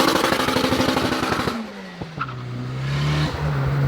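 A K20-swapped Honda Civic does a soft launch on launch control, its engine holding a loud, buzzing limited rev before releasing with a brief chirp as the tires break loose, then settling into a steady lower drone close by.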